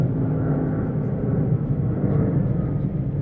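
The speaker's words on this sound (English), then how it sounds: "Sorry for the loud airplane noise." A loud airplane passing overhead outdoors, producing a continuous broad, low roaring rumble that holds steady throughout without breaks, with no voices heard.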